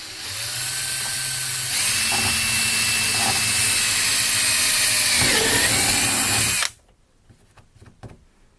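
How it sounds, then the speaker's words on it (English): A power drill bores a 7/32 inch hole through the hull of a Jackson Kayak Cuda 14, whining loud and steady for several seconds with a brief pitch dip near the end, then cutting off abruptly to quiet. "we're going to drill a 7/32 hole right here."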